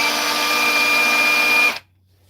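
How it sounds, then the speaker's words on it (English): A power drill whirs loud and steady with a high whine, then switches off abruptly and winds down to quiet. "I'm trying already drill mode."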